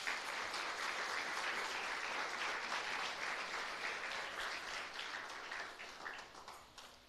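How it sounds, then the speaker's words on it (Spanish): A congregation at a New Year's Eve farewell service gives a sustained round of applause to the Lord, even and fairly faint, thinning out over the last couple of seconds. "Dale un fuerte aplauso al Señor."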